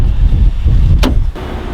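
Strong low wind rumble buffets the microphone throughout, with a brief sharp whoosh-like burst near the middle.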